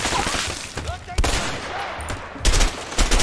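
Rapid bursts of gunfire crack in A Way Out, loud and close, with sharp clustered shots and short pauses between volleys.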